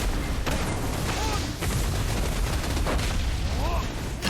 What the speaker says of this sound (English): You get a lot of fiery explosions.